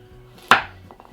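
A single sharp knife chop on a cutting board through carrots or onion for tomato soup, close and crisp, followed by a couple of faint lighter taps.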